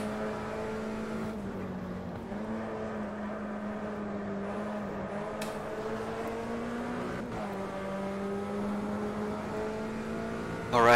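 A Puma P052 race car engine in a racing video game at the Guapore circuit holds a high, sustained whine, with pitch dipping and climbing through shifts and braking, a buzzing tonal drone heard close throughout.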